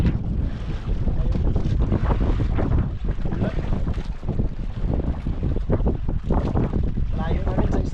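Strong sea waves and gusting wind buffet a small fishing boat far out at sea ahead of incoming rain. Heavy, continuous rumbling wash and wind roar on the microphone fill the scene from start to finish.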